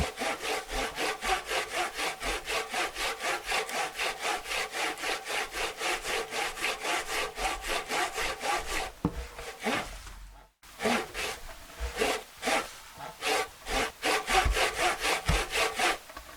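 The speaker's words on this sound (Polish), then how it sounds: "Przecina drewno na pół. Mężczyzna odkłada piłę." Hand saw cutting through a piece of wood, a steady rhythmic rasp of back-and-forth strokes, close and loud, breaking into slower separate strokes near the end as the cut finishes.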